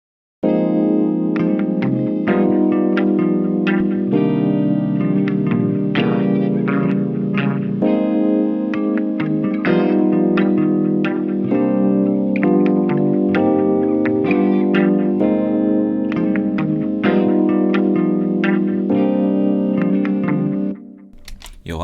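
A raw, unprocessed late-night R&B beat built on a smooth electric guitar sample: steady, effect-laden chords with a chorus-like shimmer repeat in a looping pattern at a constant level for about twenty seconds, then cut off abruptly.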